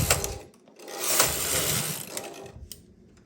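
A domestic knitting machine's carriage swishes and clatters across the needle bed in quick mechanical passes knitting rows, the ratcheting rattle rising and falling close by with brief pauses between strokes.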